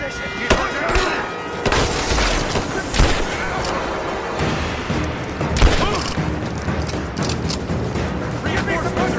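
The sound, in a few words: gunfire in Rise of the Tomb Raider video game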